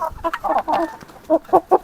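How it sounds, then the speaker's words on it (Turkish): Roosters cluck nearby in Perşembe, Ordu, Turkey, in short, choppy bursts, several quick calls in a row with brief pauses between. "Şeyler de güzel, horozlar da güzel."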